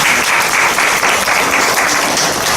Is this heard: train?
no